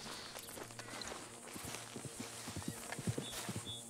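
Horse hooves clip-clopping at a walk in the video game Red Dead Redemption 2, a steady uneven rhythm of close thuds over a soft ambient bed, with no talking.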